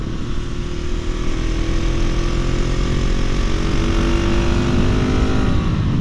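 A KTM SMC R motorcycle engine runs steadily and close, a loud continuous single-cylinder drone with a slight rise in pitch, no voices over it.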